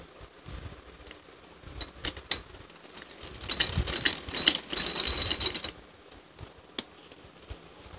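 A sewing machine stitches a join in a piece of buckram stiffening for a frilled dress, first in a few short runs and then in a steady rapid rattle lasting a couple of seconds, close and clear.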